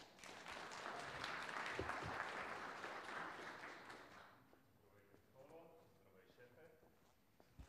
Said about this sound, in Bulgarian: Така че вашите аплодисменти за Стоил.